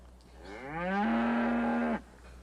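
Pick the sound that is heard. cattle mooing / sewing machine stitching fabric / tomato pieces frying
cattle mooing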